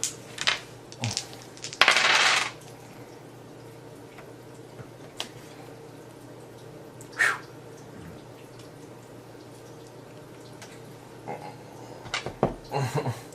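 Dice roll across a table during a Betrayal Legacy board game: a short burst of clattering rattles, followed by scattered light clicks and taps over quiet room noise.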